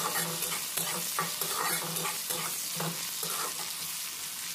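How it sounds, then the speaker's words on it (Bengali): Chopped onion with black cumin sizzles in hot oil, stirred in a quick repeated rhythm, each scrape of the spatula rising over a bright, steady frying hiss. "পেঁয়াজটা হালকা নাড়াচাড়া এখানে করে নিতে হবে"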